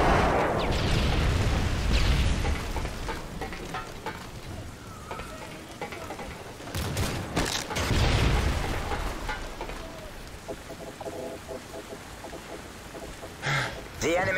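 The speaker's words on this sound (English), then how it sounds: "Friendly airstrike on the way." Airstrike explosions in the Call of Duty IW5 single-player game, heavy rumbling booms near the start and again around the middle, followed by quieter crackling debris and a sharp late burst.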